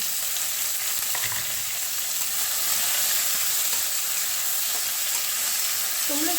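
Sliced onion frying in hot oil for a boal fish curry, a steady close sizzle running throughout with faint clatter of stirring.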